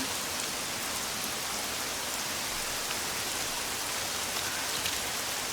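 Steady rain falls in a dense, even hiss of countless drops, constant and moderately loud throughout, with no voices.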